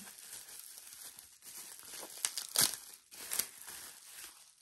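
Packaging around a fountain pen converter for a Majohn A1 press pen is unwrapped close up, with soft crinkling and a few sharper tearing crackles in quiet surroundings.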